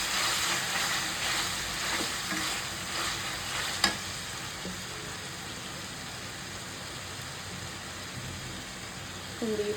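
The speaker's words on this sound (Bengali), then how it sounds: "এইবার দিয়ে দেবো বাটা মশলাটা।" Ground paste of ginger, garlic, cumin, tomato and onion with garam masala hits hot oil in a pan, giving a steady, fairly loud sizzle that holds throughout with a few light stirring scrapes and a single clink.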